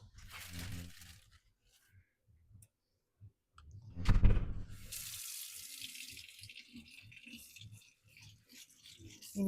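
Tap water runs into a kitchen sink for washing potatoes, a soft splashing flow with clicks and clatter of handling, fairly faint, in a quiet room.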